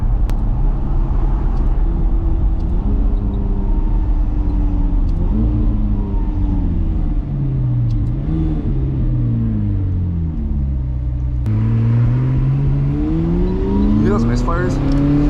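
McLaren 570S engine driven at speed at night, a steady loud low rumble with rising and falling revs and sporadic popping bursts from excess fuel, under constant road noise with voices talking over it.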